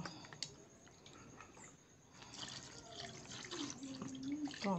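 Liquid soap made from alcohol and caustic soda is stirred in a washtub, giving soft sloshing and dripping swirls that grow louder and busier toward the end, with someone speaking over it.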